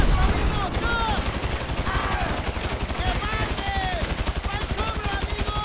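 Rapid automatic AK rifle fire in GTA 5, a dense continuous rattle of shots lasting throughout, with voices talking over the gunfire.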